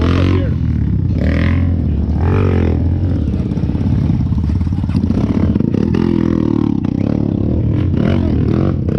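Motorcycles and off-road buggies grind along a rough trail, engines droning loudly and steadily close by with clattering and scraping throughout.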